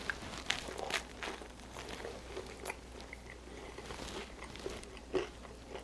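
Close crunchy chewing of egg bread French toast with cabbage, cheese and ham, irregular bites and crackles over a few seconds, with no speech.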